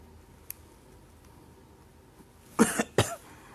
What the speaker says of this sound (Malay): Batuk ni, janganlah dok saya sakit.